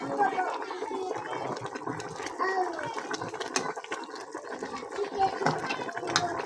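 Water pours into a cooking pot while buffalo feet are simmered, a gurgling, splashing fill under a nearby voice talking.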